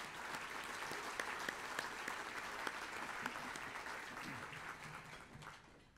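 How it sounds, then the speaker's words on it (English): Applause for event sponsors at a county address fills the room at moderate loudness with a few sharp individual claps, then tapers slowly at the end while faint voices come through. "Big round of applause for those folks."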